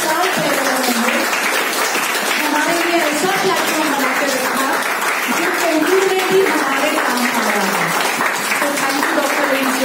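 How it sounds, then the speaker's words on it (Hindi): Applause from an audience at a DXN new-distributor training session, a steady wash of clapping that runs throughout while a voice talks loudly over it. "डॉक्टर लिन सियोजिन के लिए बहुत सारी तालियां होनी चाहिए"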